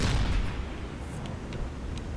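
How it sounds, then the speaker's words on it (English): A shell hit exploding in the submarine game Silent Hunter III, a heavy low boom that hits at once and then rumbles on as a dull, sustained roll, with a few faint high clicks over the decay. "That was a funky green explosion."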